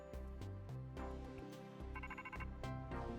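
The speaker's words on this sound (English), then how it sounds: "I heard a phone go off." A phone rings within the Pokemon Legends: Z-A video game, a short electronic ringtone trill cutting over ongoing game music and tones, fairly quiet overall with no talking.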